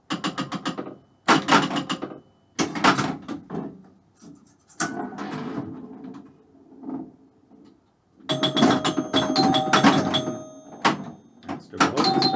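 Cleopatra pinball machine counting its double bonus, rapid bursts of mechanical clicks and chimes in repeated runs with short pauses, then a dense final stretch of ringing, rattling scoring sounds.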